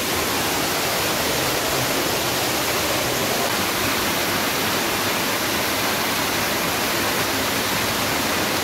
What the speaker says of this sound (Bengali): একটা ঝর্ণা আছে, বড় ঝর্ণা।